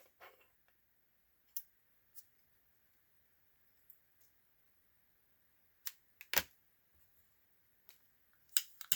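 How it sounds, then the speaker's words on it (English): Scissors snip the ends off a ferro rod lanyard cord in a quiet setting: a handful of sharp, isolated close clicks spaced irregularly over near silence. "Now we'll just cut these ends off and blob those."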